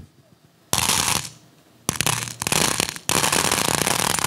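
Foley firecracker effect made by shaking iron objects, imitating wedding firecrackers: loud, dense bursts of rapid crackling, starting abruptly, pausing, then resuming in several sustained volleys close up.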